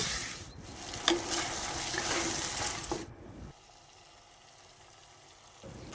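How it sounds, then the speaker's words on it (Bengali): Potatoes sautéing in a pan for egg curry, a moist sizzle with stirring scrapes for about three seconds, then a sudden drop to a quiet low hiss. "এবার আলু দিয়ে একটু ভালো করে একটু কষিয়ে নেব"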